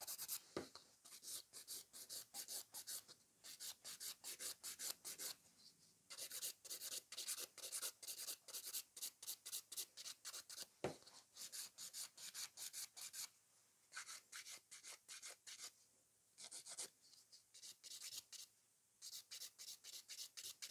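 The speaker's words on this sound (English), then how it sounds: "When we file the glitter, it becomes matte" A Luraco electric nail file grinds across glitter gel nails in quick, rhythmic rasping strokes, close and fairly quiet, with brief pauses between passes.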